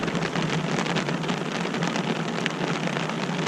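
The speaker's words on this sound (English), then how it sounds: "It's raining in through the window" Steady rain patters on a parked camper van at a lakeside in Poland, a dense, even hiss of drops that is loud and close and runs throughout with no voices.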